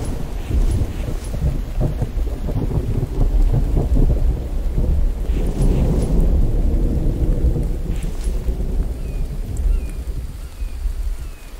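Steady rain pours in the survival video game The Infected while low thunder rumbles continuously underneath, loud and close, with no talking.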